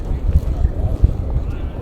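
Erupting volcano with fountaining lava, heard in daytime as a continuous low rumbling roar like a jet engine, with wind buffeting and thumping bursts close to the microphone.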